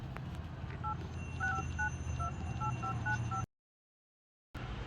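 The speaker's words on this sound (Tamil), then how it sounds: "அந்த நம்பருக்கு மட்டும் ஒரு ஃபோன் பண்ணுங்கய்யா" A telephone number being keyed in on a phone, giving a run of short, evenly spaced electronic dialing tones over a steady background hum, then a brief silence.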